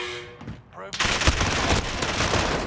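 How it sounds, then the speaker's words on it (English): Rapid bursts of gunfire in Call of Duty Warzone, a dense, loud barrage of shots and booms that starts abruptly after a brief quieter moment and keeps going. "I don't even know where I'm being shot from"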